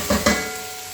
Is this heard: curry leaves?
yes